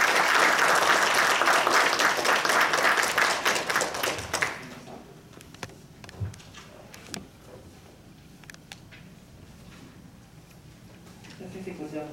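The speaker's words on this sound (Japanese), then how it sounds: "先生に、もう一度盛大な拍手の方をよろしくお願いします。" An audience at a public health lecture gives the lecturer a round of applause, a dense clatter for about four seconds that breaks off abruptly, leaving quiet room noise, a few stray claps and faint talk.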